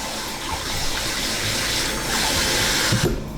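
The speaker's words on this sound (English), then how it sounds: "So I'm going to rinse it 3 times." Steady rush of tap water running over rice being rinsed in a bowl, close and fairly loud, then cutting off near the end.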